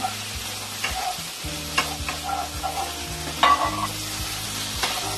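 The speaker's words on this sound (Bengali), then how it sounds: "আলু আর পটলটা মশলার সঙ্গে নাড়াচাড়া করে নেব।" Fried potatoes and pointed gourd stirred through masala in a pan, with close scraping spoon strokes over a soft sizzle and occasional clinks, no talking.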